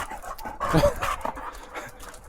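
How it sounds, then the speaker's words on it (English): Dogs in the hilltop town of Sighnaghi, Georgia, pant excitedly at close range, giving quick rhythmic breathy huffs with a brief louder burst in the middle, amid light outdoor background noise. "Look at these dogs. They just follow me around."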